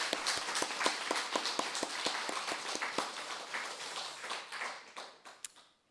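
A church congregation claps together during an Easter Sunday morning service, a brisk rhythmic run of hand claps that loosens and tapers off into scattered claps before falling silent.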